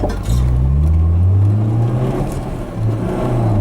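A Polonez Abimex 1.6 GLI engine revs close by, a loud, low rumbling roar that rises and holds, then eases slightly before climbing again.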